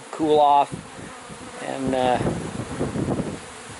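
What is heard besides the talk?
honeybees buzzing in a bee vacuum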